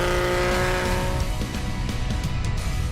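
Classic vintage cars in a Moroccan rally roar past close by, with a steady engine drone and whining tones before a brief dip as revving and passing noise continue.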